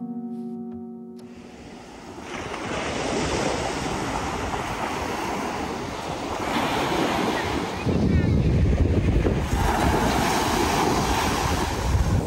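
Surf rolls steadily onto Playa Grande at Corralejo, Fuerteventura, in the Canary Islands, making a broad continuous roar. Gusts buffet the microphone, and the surf swells louder near the end.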